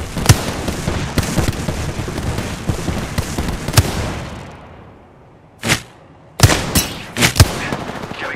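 Explosive bursts from Fuse's knuckle cluster in Apex Legends, sharp loud cracks amid rapid gunfire, then a brief lull before several separate booming blasts close by.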